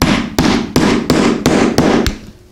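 Seven sharp, loud hammer blows strike an eyelet setting tool at a steady, even pace, each hit ringing briefly before the next.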